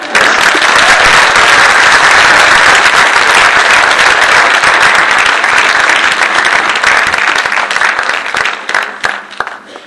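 Loud, dense applause from an audience at a debate event fills the clip with continuous clapping, thinning slightly toward the end.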